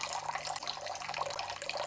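Steady running water from a tap into a measure for focaccia dough, a continuous close splashing stream with no pauses.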